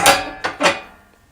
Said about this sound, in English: put the stove back together, so that's the fire grate